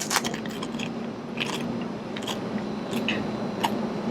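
Crunchy pani puri shells filled with potato and parsley are bitten and chewed up close at an Indian restaurant table, giving repeated short crisp crackles over a steady murmur of dining-room background noise.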